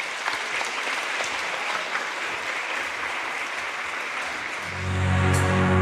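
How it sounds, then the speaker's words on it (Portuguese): Congregation applauding at a church service, a steady, dense wash of clapping that holds throughout and swells louder near the end as music or a held tone enters underneath. "Aplauda o nosso Deus"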